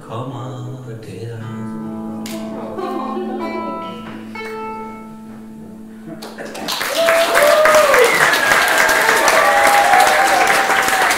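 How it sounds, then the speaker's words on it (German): A singing voice with music fades out at a theatre concert, then loud sustained applause from a large audience swells and continues to the end, with scattered whistles. "Applaus."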